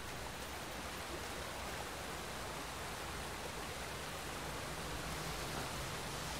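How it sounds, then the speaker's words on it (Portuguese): A waterfall in the video game Darksiders III gives a steady, dense, even rush of falling water that holds at a constant level for the whole stretch, with no voices over it. "Aqui tem uma cachoeira."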